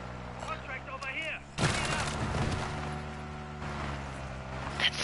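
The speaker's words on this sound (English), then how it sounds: "Your gun sounds cool" Gunfire from a player's weapon in a video game erupts midway as a loud burst of rapid shots, preceded by quieter game sounds and followed by lingering rattle and a further crack near the end.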